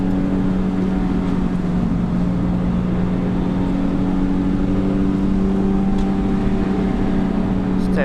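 A car's engine drones steadily and loudly at a driving event, holding a fairly constant pitch with little sign of a sharp rev, heard from inside the car.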